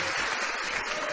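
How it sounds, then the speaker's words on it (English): Applause from a studio or live audience, a steady dense patter of clapping hands filling the clip without pause, moderately loud. "There's a smattering, let's call it, a smattering of applause"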